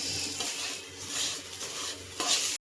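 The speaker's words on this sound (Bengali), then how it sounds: "এখানে চাল ভাজা হচ্ছে ঘি দিয়ে আর সাথে একটু করে করে দুধ দিচ্ছে" Steady sizzle of rice frying in ghee with milk added little by little, stirring and scraping in a pan, continuous and fairly quiet, with a brief louder scrape near the end.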